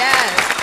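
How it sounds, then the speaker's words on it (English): Studio audience applauds comedy filmmaker Judd Apatow, a dense burst of loud clapping with a voice talking over it. "Give him a loud round of applause, man."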